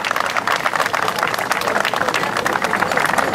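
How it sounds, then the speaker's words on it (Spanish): A large outdoor crowd in Ica gives loud, sustained applause at a civic recognition ceremony, dense clapping with a crowd murmur and speech mixed in underneath. "el aplauso fuerte de todos los iqueños."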